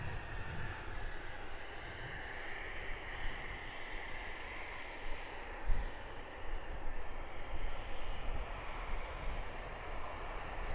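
An airliner arriving at Luton Airport, a low, rumbling distant jet roar that swells and fades gently over about ten seconds, with no voices.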